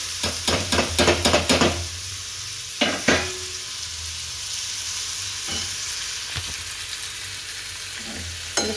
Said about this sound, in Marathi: चला आता परतून घ्यायचं